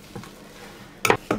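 Boiled potatoes mashed with a potato masher in a pot, a few soft squelching presses ending in two sharper, louder pushes close to the microphone, with no talk.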